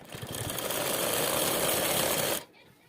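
A sewing machine stitches the inner seam of a girl's trouser, a steady fast buzzing whir running for a couple of seconds and then stopping abruptly.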